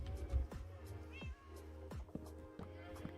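A Minecraft cat meows several times in quick succession, each short call bending in pitch, heard fairly close over a quiet game background with a faint voice nearby.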